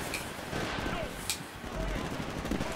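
Rapid, dense gunfire rattles through a match of the video game Titanfall, with bursts and sharp shots layered over constant action noise.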